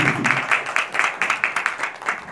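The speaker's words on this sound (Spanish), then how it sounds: "Un fuerte aplauso para Raúl, por favor," Audience at a concert on a 2021 tour clapping in a steady crowd applause that thins toward separate, rhythmic claps, loud and close, with no talk over it.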